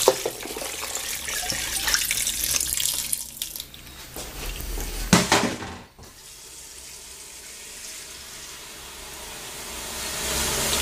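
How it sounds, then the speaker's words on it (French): Water pours into a pressure cooker over spinach confit for a Tunisian Jewish stew, a steady close splashing stream that cuts off, followed by a fainter running hiss. "Maintenant, on va couvrir à hauteur avec de l'eau."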